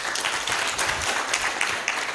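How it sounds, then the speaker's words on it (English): Steady round of audience applause for panelists at a benefits-focused event, a moderately loud, continuous patter of many hands clapping throughout. "Please, round of applause for our panelists."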